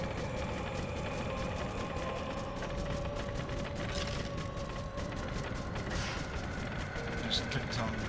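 Bombardment artillery fire in the zombie train game Choo Choo Survivor, a dense, continuous rattle of rapid mechanical bursts and thuds under steady game noise, with no talk.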